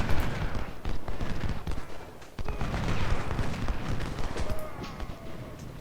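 Artillery and musket fire on a Civil War battlefield in the game Ultimate General: Civil War, a continuous crackle of distant volleys with occasional heavier booms.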